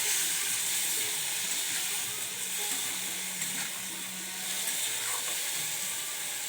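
Spice paste that had been soaking is poured into a hot pan and hisses in a broad, steady sizzle close by, fading slightly midway, no talking.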